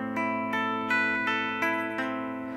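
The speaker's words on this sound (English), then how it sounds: "The first chord shape that we're going to play is going to sound kind of like this." An electric guitar strums a chord shape from a song in repeated even strikes, each ringing out before the next, clear and alone.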